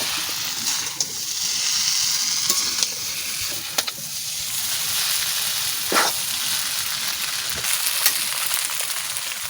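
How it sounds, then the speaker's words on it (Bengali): Chow mein frying in a pan shop-style, a steady bright sizzle with intermittent scrapes and clanks of a utensil tossing the noodles, close and loud with no voices. "যেটা দেখা একদম দোকানের মতন ভেজে নিচ্ছি"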